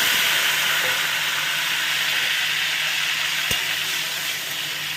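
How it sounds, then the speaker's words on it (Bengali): Cut potatoes frying in oil already used to fry fish give off a steady, loud, close sizzle that runs the whole time, with one brief clink near the end and no voices. "এবার মাছ ভাজার তেলের মধ্যেই আলু কেটে আমি একটু ভেজে নেব।"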